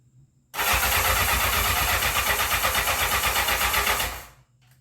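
The starter on a 1984 Honda CB700SC Nighthawk motorcycle engine cranks in a loud, steady, rhythmic whir for about four seconds, and the engine never catches before it stops.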